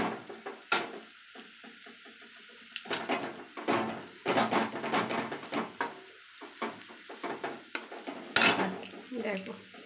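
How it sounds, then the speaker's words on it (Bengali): Food fries in a pan while a utensil stirs and clatters against the metal in irregular bursts, close and fairly loud over a steady sizzle. "এটা যতক্ষণ না লাল লাল ভাজা হচ্ছে, একটু একদম লাল লাল করে নেবো"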